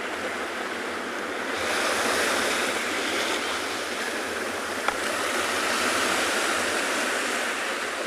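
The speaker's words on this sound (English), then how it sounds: "I feel like I'm shouting over the sound of the waves." Ocean waves break on the shore at sunset, a continuous loud wash of surf that swells and eases over the whole stretch, with no voices.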